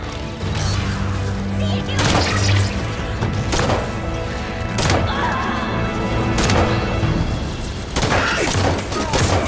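Gunfire in the Halo video game, bursts of loud blasts and crashes recurring every couple of seconds over a dense battle din, with voices talking in the game.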